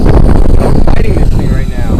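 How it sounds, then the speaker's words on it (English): Strong gusting wind buffets an outdoor microphone, a loud continuous low rumble with roaring bursts, while a remote-control helicopter whines faintly in the background and people talk over it. "All of a sudden, it got really windy out."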